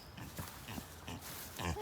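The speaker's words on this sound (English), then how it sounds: "Here's our mini pigs if you haven't seen them in a while." Mini pigs kept on a farm grunt and snuffle in a short run of soft, close oinks, a few brief grunts spaced through the moment.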